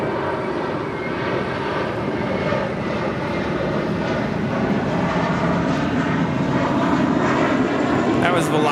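Volaris Airbus A321 departing from Los Angeles International Airport toward Guadalajara, a steady loud jet roar rising slightly in strength, with someone talking over it.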